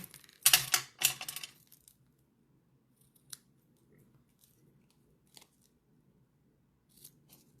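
Scissors trimming a delicate craft ribbon, with a quick burst of several close crisp snips followed by a few faint isolated clicks in a quiet room.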